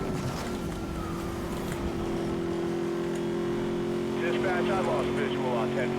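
A heavy Mustang in Need for Speed: Most Wanted (2012) holds a steady, droning engine note while accelerating. The tone stays loud and continuous throughout, with a slight rise near the end.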